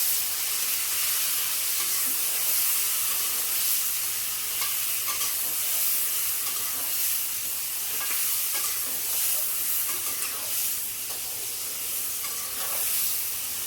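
Paneer and peas frying in a pan, giving a steady close sizzle with occasional stirring scrapes throughout and no talking.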